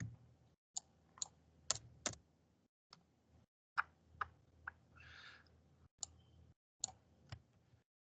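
Sparse, quiet clicks of computer keyboard keys while someone writes code, irregular single taps and short clusters separated by silent gaps.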